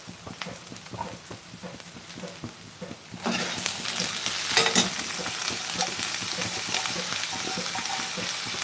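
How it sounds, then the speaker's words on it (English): Green chickpeas (hara chana) going into a hot pan for ghoogni, a steady close sizzle that swells louder partway through, with a spoon stirring and scraping throughout. "I'll just add the hara chana right now"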